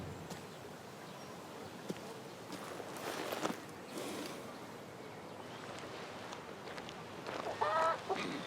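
A chicken in the video game King's Bounty II, faint clucks and a short squawk near the end over a soft ambient game background.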